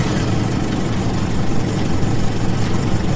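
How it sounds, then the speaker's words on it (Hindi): A car engine idles steadily with a low, continuous rumble, close and alone throughout, during a tense nighttime getaway. "तभी संग्राम सिंह से कार स्टार्ट हो गई"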